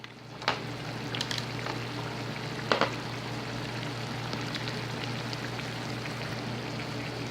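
Ground turkey fries in a pan, a steady close crackling sizzle with a couple of brief louder spits early on, continuing evenly to the end.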